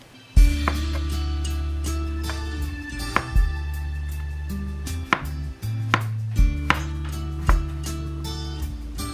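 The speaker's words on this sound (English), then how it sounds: "For the cucumber, just slice them into long strips." Cucumber sliced into long strips with a knife, a series of sharp, irregularly spaced knocks of the blade on a cutting board, close and distinct over a steady background hum.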